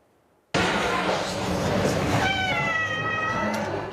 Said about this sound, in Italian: ecco Silvio, il gatto tigrato